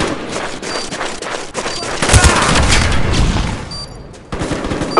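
A frag grenade detonating in a shooter video game, a loud booming blast with a sustained rumbling roar after distant gunfire crackles, then the din cuts off abruptly.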